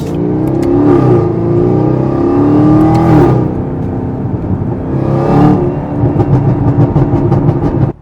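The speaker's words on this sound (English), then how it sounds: "I can just rev it out" A Camaro ZL1 with a new tune revs hard and loud up through high shift points, the engine note rising and falling in several sweeping pulls with no talking over it.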